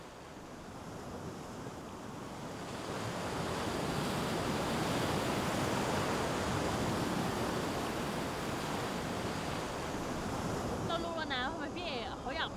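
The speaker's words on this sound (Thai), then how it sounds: "พี่อ่ะได้ยินเสียงคลื่นก็ต้องทะเลสิครับ" Ocean waves wash onto a sea shore in a steady, loud roar of surf with wind buffeting the microphone, alone throughout.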